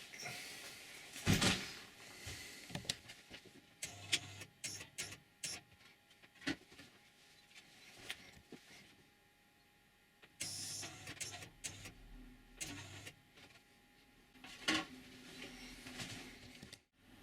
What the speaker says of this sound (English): There's a little switch you can operate that will move the carousel around so you can get them where you want them.